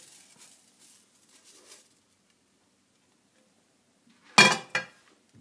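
Pan börek flipped over with the help of the pan lid: after near silence, a sharp metallic clatter of lid and pan followed by a second, lighter knock, close and brief.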